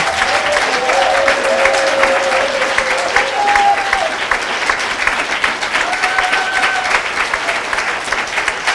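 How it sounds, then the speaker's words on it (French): Women of a church congregation clap and cheer for themselves during a Sunday service: loud, sustained applause from a crowd, steady throughout with a few faint whistles or voices above it. "je voudrais que vous, toutes les femmes, vous vous tenez debout et que vous vous acclamiez vous-même"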